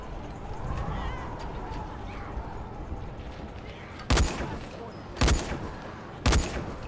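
Gunfire in a video game: three loud, sharp shots spaced about a second apart, ringing out over a steady background of game ambience.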